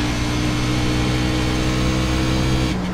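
B-Class racing car engine in iRacing at Gateway droning at steady high revs, a continuous loud buzzing hum with strong harmonics, dipping slightly at a shift near the end.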